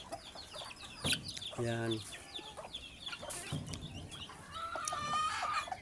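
Pet ducks gather at feeding time, giving close, scattered quacks and calls over a busy farmyard background while a person speaks briefly.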